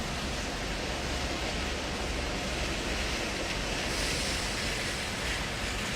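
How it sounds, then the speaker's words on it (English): Heavy rain pours down onto a car, a dense, even roar of hissing water that holds steady and loud throughout, with no voices. "the rain is pouring down on my car"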